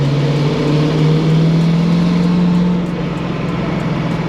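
A 1000 BHP turbocharged LS V8 in a Datsun 280Z pulls uphill with a deep, loud, steady drone heard from inside the cabin, easing slightly near the end.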